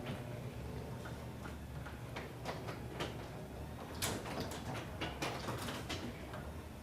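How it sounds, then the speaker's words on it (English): A residential garage door shuts after its opener button is pushed, giving a steady low motor drone with ticking, clattering track noises building toward the end. "when I push the button, the garage door is going to shut"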